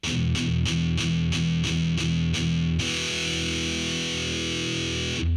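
Distorted electric guitar chugging in tight palm-muted bursts, about eight quick chops, then a sustained ringing distorted chord.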